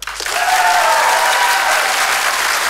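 A theatre audience at a stage magic show bursts into applause to cast a vote, a loud, dense crowd clapping that swells quickly and holds steady close by.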